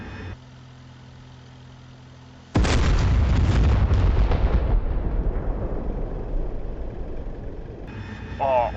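In a video game, a big Maverick anti-armor missile hits armored vehicles, an Su-23 and a BMP-3, with a sudden loud blast after a quiet hum, then a long rumbling, crackling decay.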